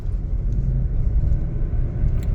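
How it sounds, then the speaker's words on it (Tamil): A car rolls up and over a speed breaker near a busy temple area at Sivanmalai, Kangeyam, heard as a steady, close low rumble of engine and road noise with no distinct bump standing out. "ஒரு ஸ்பீடு பிரேக்கர் ஏறி இறங்கியாச்சு"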